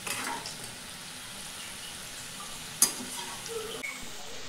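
Onion bhaji fritters fry in hot oil in a home kitchen while being stirred and turned, giving a steady soft sizzle with one sharp utensil clink midway. No voices.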